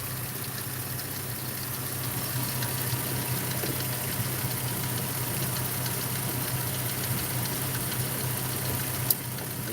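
A Ford engine idles steadily throughout a coolant leak check, a constant low hum with a faint mechanical rattle, close and unbroken, with one brief click near the end.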